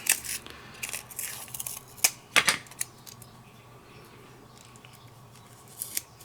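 Scissors cut through craft paper in a few sharp, close snips near the middle and again near the end, with quiet rustling between them and no talking.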